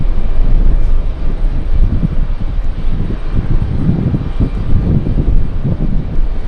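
A Boeing 777 airliner taxiing at an airport, heard as a loud, continuous low jet engine rumble with steady broadband roar and wind buffeting, no voices.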